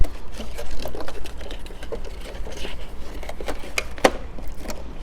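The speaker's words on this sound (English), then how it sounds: "That was probably one of the crookedest lines I've ever sewn." A sewing machine stitching a line on pajama fabric, making a soft, rapid patter of needle strokes with faint clicks and rustling of cloth, close by and fairly quiet.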